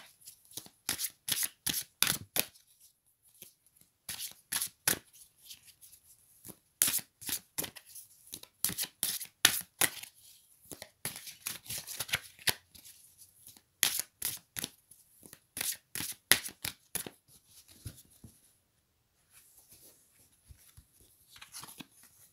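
Tarot cards are shuffled by hand and drawn in a long run of quick, crisp riffling and flicking bursts, close and fairly loud, with short pauses between the bursts and no talking.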